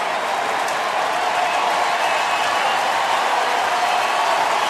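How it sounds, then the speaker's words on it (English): Baseball crowd at a Tigers game in Detroit's Motor City, a steady, loud wash of cheering and clapping from a large stadium gathering, continuous and even throughout. "Crowd starting to make some noise now."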